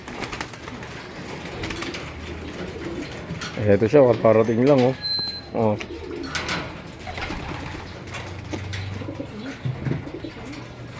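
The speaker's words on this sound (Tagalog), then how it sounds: "Gandang ibon." Soft, repeated pigeon coos in a short burst, heard under casual nearby conversation and outdoor background noise.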